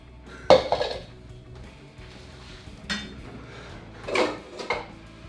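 Metal saucepans and pots clank and clatter in a few sharp bursts, close by, with quieter handling noises in between.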